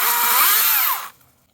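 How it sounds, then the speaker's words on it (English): Small electric chainsaw cuts through shrubs with a loud, close, high-pitched whine that runs for about a second and then stops abruptly. "So that works well as a small electric chainsaw"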